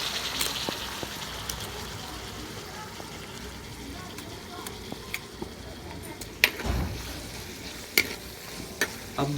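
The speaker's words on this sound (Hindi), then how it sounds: "अब दोबारा से सारे सब्ज़ मसाले को अच्छी तरह से भून लेंगे" Chopped green chilies, vegetables and spices stirred and fried in a pan for a beef and bottle gourd dish, with a steady close sizzle and scattered ticks and scrapes of the spoon against the pan.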